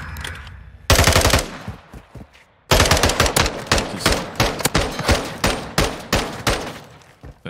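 Rapid automatic gunfire from the video game Call of Duty Modern Warfare 2 rattles in loud, close bursts, with a short volley and then a longer sustained string of rhythmic shots.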